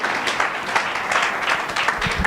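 An audience at a business seminar in Nairobi applauds a speaker, producing a dense, steady wash of clapping that fills the whole moment without pause.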